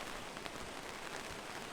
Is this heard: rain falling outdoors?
yes